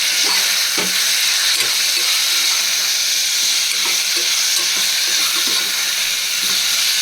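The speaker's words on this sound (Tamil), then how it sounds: "இதை ஆட் பண்ணிக்கலாம் வதக்கிப்போம்" Ingredients sautéing in a pan for bone soup: a continuous loud sizzle with occasional stirring clinks and scrapes throughout, no talking.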